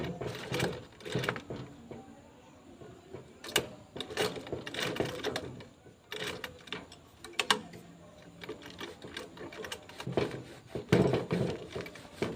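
A sewing machine back stitches a bag, short bursts of rapid mechanical clatter starting and stopping at close range, separated by brief pauses and handling noise.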